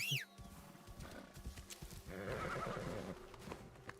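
A horse in the video game Assassin's Creed Shadows gives a sharp whinny at the start, followed by a run of clip-clopping hooves, fairly faint.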